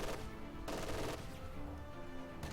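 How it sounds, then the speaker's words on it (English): In Company of Heroes 2, an MG42 machine gun fires rapid bursts at moderate distance, with two separated rattling volleys amid battlefield ambience. "But another MG42 in depth does do some extra damage here."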